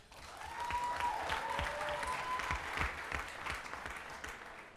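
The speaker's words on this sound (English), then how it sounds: "let's give a big round of applause for the newlyweds" Wedding guests applaud the newlyweds, a sustained burst of clapping from a room of people that swells quickly and holds steady before tapering slightly.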